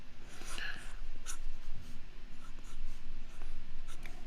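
A pencil scratches steadily across paper while sketching a cartoonish dog, producing close, continuous scraping strokes with short pauses between strokes and faint rhythmic variation in pressure.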